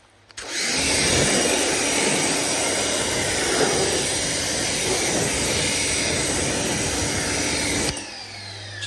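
A water sprayer rinses a dirty car wheel coated in brake dust, producing a steady, loud hissing spray that starts abruptly, holds for about seven seconds, then cuts off.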